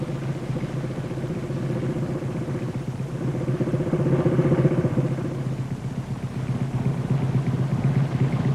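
A 1950s motorcycle rides through a road junction beside a closed van, its steady engine drone holding close and even, rising slightly partway through.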